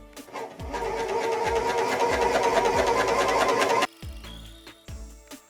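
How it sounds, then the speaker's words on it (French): Bernina L460 overlocker running a 4-thread overlock stitch along the edge of plain cotton fabric, a loud continuous mechanical whir for nearly four seconds, then short stop-start bursts. "Ici je vais donc faire un simple surjet 4 fils, donc un surfil sur le bord d'un tissu simple en coton"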